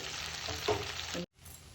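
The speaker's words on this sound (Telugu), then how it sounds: "ఫ్రై అవుతుంది వంకాయ మొత్తము ఈ విధంగా అవ్వాలండి" Eggplant fries in oil in a pan, a steady close sizzle and crackle that cuts out abruptly near the end before resuming faintly.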